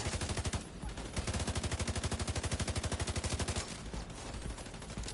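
Rapid gunfire in the video game Division 2, a close, loud stream of shotgun blasts in quick rhythmic bursts with a brief gap before the firing resumes and then fades into noisy ambience.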